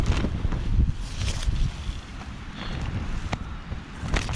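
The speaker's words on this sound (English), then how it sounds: "and that was a decent gust," A gust of wind sweeps across a mountain campsite in the Lake District, buffeting the microphone with low rumbling bursts and rustle around a small tent, steady and close with no talk.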